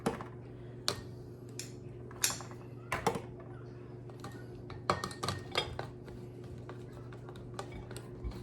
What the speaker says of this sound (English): With my meatballs, you want to carefully put them in here.